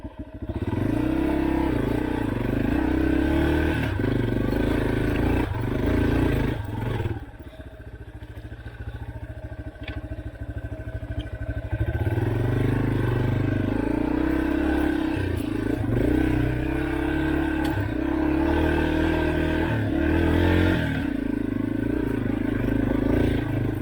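Off-road vehicle engine in gear crawling over a rock at Walker Valley: a steady, loud low rumble with a brief dip as the load shifts, then the engine pulls again under clattering and scraping.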